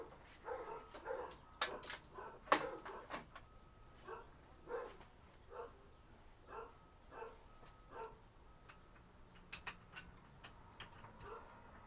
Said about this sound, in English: they never stop barking.